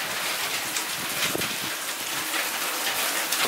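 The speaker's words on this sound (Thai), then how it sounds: "ฝนตกแดดออกครับ" Rain keeps falling after a hailstorm at a hillside home while the sun shines, a loud, steady, close patter and hiss that continues evenly throughout, with no voices.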